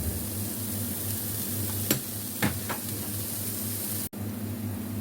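Ginger frying in a hot pan at the start of a crab dish, a continuous even sizzle with a few soft clinks of a utensil and a low steady hum beneath.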